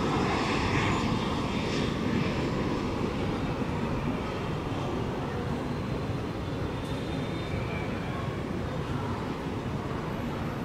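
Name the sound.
Cessna aircraft landing at Tan Son Nhat airport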